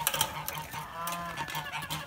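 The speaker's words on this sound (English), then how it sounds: "We gotta let the geese out." Geese on a farm honking in the morning by their coop, a rapid series of short nasal honks from several birds overlapping close by, with no talking.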